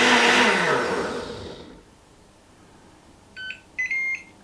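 A Ninja soup maker blending pumpkin soup: a loud whirring blade roar that winds down and stops, followed by a short series of electronic beeps signalling the end of the cycle.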